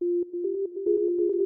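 A Hive synth preset for an ambient beat gives a single soft, steady sustained tone, faint and alone, lightly pulsing with a gentle rhythmic flutter over about a second and a half.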